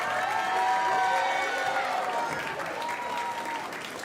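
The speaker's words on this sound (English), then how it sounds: "So I would like for you guys to give a round of applause to these next designers." A crowd claps and cheers for designers coming out at a streamer fashion show. Loud, continuous clapping carries scattered whistles and shouts, easing slightly toward the end.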